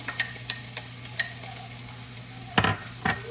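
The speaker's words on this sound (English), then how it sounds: "I'm gonna start with sauteing some onion." Chopped onion sautéing in coconut oil in a pan for Filipino adobo, giving a soft steady sizzle with scattered stirring scrapes and a couple of louder clanks near the end, no talking.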